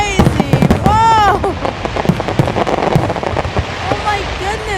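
Sharp cracks and booms from a Fourth of July fireworks show arrive in a steady barrage, with a couple of whistling rockets and crackling fizz under loud, excited voices.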